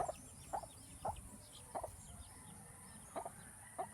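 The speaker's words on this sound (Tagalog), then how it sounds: "nandito yung manok na isa katabi ko" A chicken clucks nearby in short, sharp calls at irregular intervals, fairly faint over a low steady background hum.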